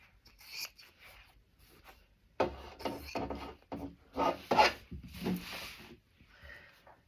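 Scissors trimming the quilted edges of a pillow made on a domestic sewing machine, giving a run of close, dry rasping snips and rubs that grow louder after the first couple of seconds.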